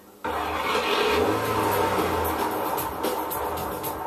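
A car engine cranks abruptly to life, then holds a rumbling idle that rises into revving as the vehicle pulls away, loud and close with no talking.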